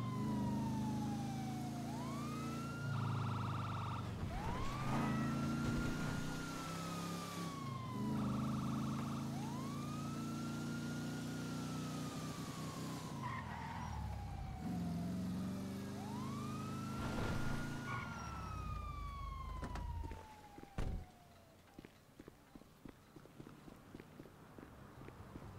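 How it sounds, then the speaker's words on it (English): A police car siren wails in the video game GTA V, rising and falling in long sweeping cycles at moderate distance, then cutting off near the end and leaving faint scattered clicks and steps. "I've heard this police siren non-stop"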